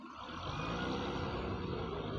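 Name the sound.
vehicle reversing on a ghat road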